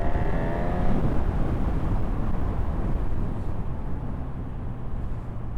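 A 2025 Honda CB1000 Hornet motorcycle engine pulls hard under acceleration on an open road, a steady loud low roar with rising tonal whine at first, heavy wind rush throughout, no talking.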